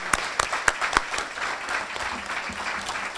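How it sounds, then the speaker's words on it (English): Applause from the audience at an awards luncheon, a few sharp claps at first that swell into steady clapping, moderately loud and fairly close with no talking over it. "We'd like to applaud all your accomplishments."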